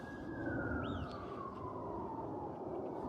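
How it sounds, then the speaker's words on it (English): A distant siren wails continuously behind steady traffic noise, its tone slowly falling, with a brief higher whoop partway through. "When you hear them damn sirens in the background"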